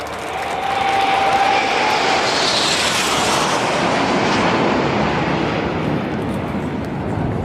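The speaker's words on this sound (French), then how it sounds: "Et voilà la patrouille de France qui revient." Patrouille de France jet aircraft making a fast flyby over Rouen during the Armada, a loud broad roar that swells and holds steadily as the jets pass.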